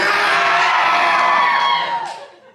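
Audience at a horror show at Universal Orlando screams and cheers in one loud, sustained crowd roar that fades out toward the end.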